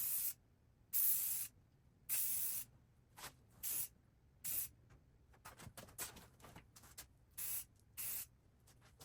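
Spray paint hissing onto a mini bike frame in repeated bursts, some long and some short, close and fairly loud, separated by quiet gaps.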